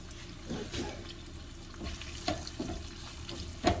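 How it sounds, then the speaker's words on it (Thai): Shrimp stir-frying in oil for pad thai, a quiet steady sizzle with intermittent scraping and clinking of a spatula against the pan, close and without talk. "อันนี้แหละมาผัดกุ้งเนาะ กุ้งใส่ ใส่ ใส่ตามที่เราอยากกินเนาะ"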